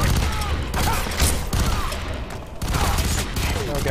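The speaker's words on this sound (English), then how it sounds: "there's a burst fire guy out there" Burst gunfire in the multiplayer video game F.E.A.R. 3, dense repeated shots and crackling blasts filling the mix, loud and continuous, with players talking underneath.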